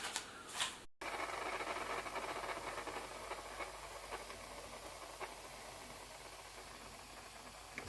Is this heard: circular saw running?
no